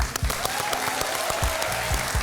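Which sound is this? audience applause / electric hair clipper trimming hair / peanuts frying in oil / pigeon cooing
audience applause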